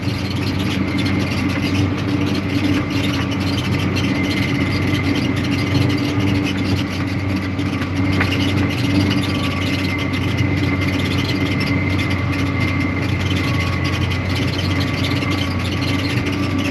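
Farm tractor engine running steadily in a field, a continuous low droning rumble with a constant tonal hum, close and loud, unbroken for the whole stretch with no talking.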